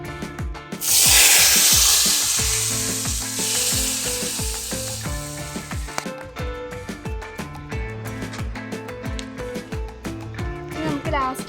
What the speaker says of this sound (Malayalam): നമുക്കിനി കടുക് വറുത്തതിലേക്ക് ഒഴിച്ചു കൊടുക്കാം.